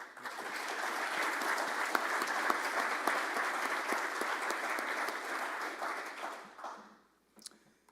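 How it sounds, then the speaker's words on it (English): An audience at a Rotary Club of Tulsa gathering applauds the Mosby family, dense sustained clapping that fades out near the end, followed by a brief quiet and a small noise. "One more round of applause for the Mosby family."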